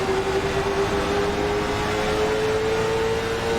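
In-car audio from a late model race car lapping at a Jones BS Late Models season opener, a steady loud engine drone with a sustained pitch that slowly rises, continuous and alone without voices.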